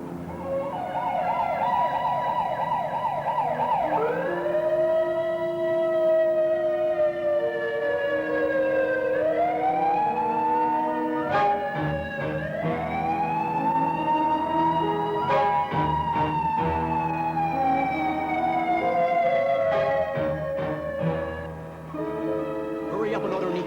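An ambulance siren wails in long rising and falling sweeps, loud and continuous, with sharp clattering knocks breaking in now and then.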